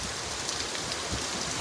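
Heavy rain pours down in a dense, continuous hiss, loud and even throughout, with no voices heard.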